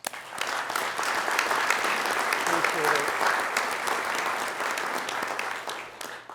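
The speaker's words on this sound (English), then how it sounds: "So if we can give them a clap." Audience applause fills a city council meeting chamber, a steady dense clapping that holds for several seconds before tapering, with a brief spoken thanks over it.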